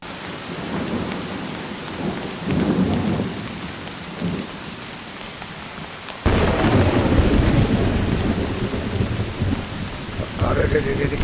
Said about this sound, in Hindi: कितनी तेज बारिश है यार।